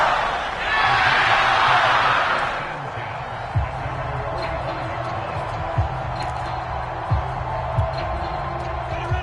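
Stadium crowd roar in an American football video game after a Jacksonville Jaguars interception, a loud swelling cheer at first that settles into a steady crowd din with a few sharp thumps.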